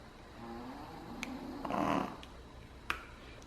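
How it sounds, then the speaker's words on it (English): A Shih Tzu snoring softly, with one drawn-out snore in the middle and a few faint clicks around it, in a quiet room. "So we have two snoring dogs here."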